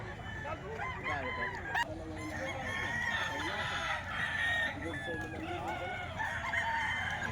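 Several chickens at a poultry sale cluck and crow over a busy background, with overlapping calls throughout and people talking nearby.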